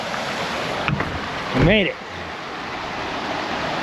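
Waterfall in Bee Canyon beside a parked Jeep, a steady broadband rush of flowing water close by, with a person speaking briefly over it.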